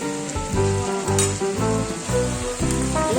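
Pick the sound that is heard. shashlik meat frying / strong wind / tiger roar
shashlik meat frying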